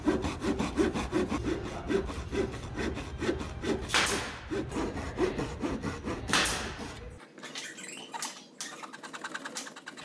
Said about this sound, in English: now I need to cut a slot for my saw to go into.